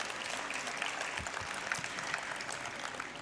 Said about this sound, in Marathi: मला वाटते माझं हे ओळख संपेपर्यंत टाळ्या चालूच राहतील